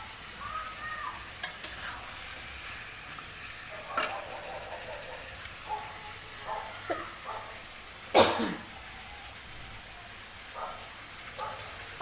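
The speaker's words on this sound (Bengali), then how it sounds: "চিকেনটা একটু ভাজা হবে" Chicken fries with potatoes and onion in a pan, giving a soft, continuous sizzle broken by occasional scrapes and clinks of stirring. A cough and faint background noises sound nearby.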